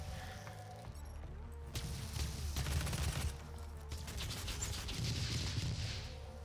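A plasma gun firing in DOOM, with rapid bursts of shots over a busy game soundscape of mechanical hums and clatter, moderately loud and without talk.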